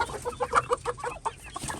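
Chickens cluck in a farm coop where one hen is sick, a run of short, overlapping clucks close by and steady throughout.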